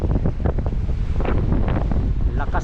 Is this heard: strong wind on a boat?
yes